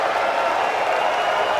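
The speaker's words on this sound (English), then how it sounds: "Yeah, just listen to the crowd here." Dense applause from a crowd of over 2,000 at the 2018 Mosconi Cup pool event, a steady broadband roar of clapping filling the hall right after a shot.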